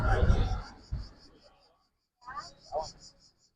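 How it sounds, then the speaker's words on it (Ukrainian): Cicadas singing in Sorrento, Italy, a faint, rhythmic pulsing chirr repeating steadily in the background while a person talks over it. "Послухайте, як співають цикади."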